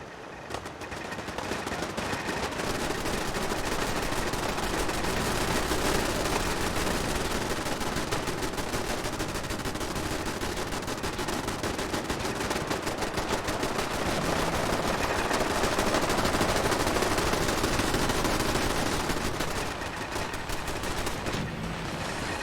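Automated turrets firing sustained gunfire in the Fallout 4 video game, a dense, continuous barrage of rapid shots that stays loud throughout.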